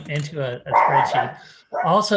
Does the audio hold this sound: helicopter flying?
no